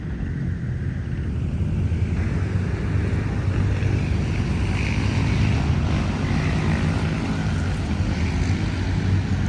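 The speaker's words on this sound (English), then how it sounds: "This is right alongside of the highway, so yes, it is quite loud." A constant loud roar of passing highway traffic in Manila, broadband and unbroken, heard from right beside the highway.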